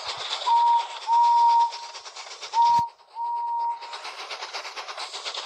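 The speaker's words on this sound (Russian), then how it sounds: "И он всегда любил свистеть в свой прекрасный свисток." A steam locomotive whistle sounds in two long blasts near 1 kHz, with a short break between them, over steady rolling train noise. A brief low thump falls between the blasts, and the rumble of the train carries on after the whistle stops.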